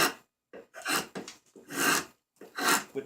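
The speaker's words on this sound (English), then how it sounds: "So I'm going to use the gouge to get the same effect with the" A carving gouge scrapes out the bowl of a wooden kuksa in rhythmic rasping strokes, each a short, close, breathy scrape with brief pauses between.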